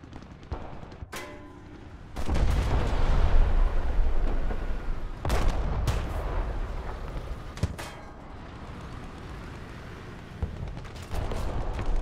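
KV-2 tank firing in War Thunder: several sharp, loud cannon blasts spaced seconds apart over a continuous low rumble of engine and battle noise.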